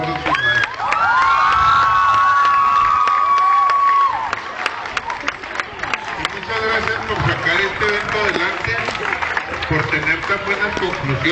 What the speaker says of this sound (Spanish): Quiero pedirles a todos ustedes, muchachos, que les brinden un fuerte,